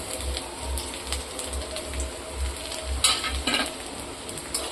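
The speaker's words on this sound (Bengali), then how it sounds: "তেলের মধ্যে এখানে আদা কুচনো আর রসুন কুচনো আমি এটা দুটোই একসঙ্গে তুলে দিচ্ছি" Chopped ginger and garlic sizzle in hot oil, a busy crackling hiss with scraping stir strokes and a few sharper spatters partway through.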